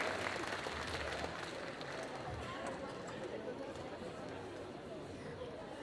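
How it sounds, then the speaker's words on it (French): An audience at a cosplay parade at a French game show applauds a Ghostface cosplayer: a dense, even wash of clapping mixed with crowd chatter, steady and moderately distant for a few seconds. "Et on applaudit Ghostface"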